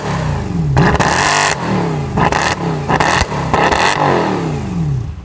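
Mercedes W204 C63 AMG fitted with an aftermarket exhaust revving hard while still using its factory tips, several sharp rising blips that fall back between throttle stabs, loud and close.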